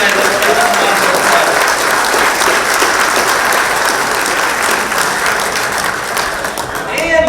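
Audience applause at a Maquoketa High School Hall of Fame induction ceremony, loud sustained clapping from a full hall that stays even throughout and begins to thin slightly near the end.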